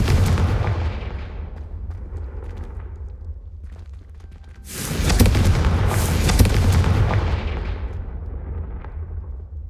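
Confringo fire spells explode in the Hogwarts Legacy video game, loud booming blasts with a crackling tail, a big burst midway over a constant rumble, and no speech.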